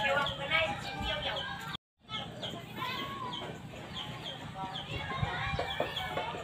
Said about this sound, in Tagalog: ang manok namin sa taas